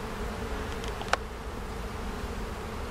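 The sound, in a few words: honey bees buzzing at an opened hive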